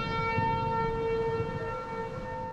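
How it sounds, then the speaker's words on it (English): Tornado siren wailing in Texas during a hailstorm, a steady sustained tone that holds loud throughout with a low rumble of wind and storm noise beneath. "Tornado sirens sounded and a funnel cloud formed on the horizon."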